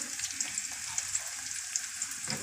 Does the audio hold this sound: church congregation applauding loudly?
no